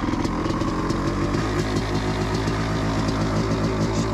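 A 500cc CR motocross bike engine under load while riding, steady loud buzzing drone with shifting pitch, close and continuous, no voices.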